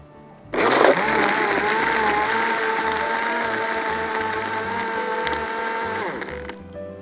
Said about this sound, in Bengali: এখন ব্লেন্ড করে নিব।